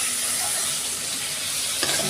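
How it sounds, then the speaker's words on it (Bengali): Prawns fry in white oil in a kadai, giving a brief, close, steady sizzle with a small stirring clink near the end. "কড়াইয়ে তেল দিয়ে অল্প করে ভাজবো"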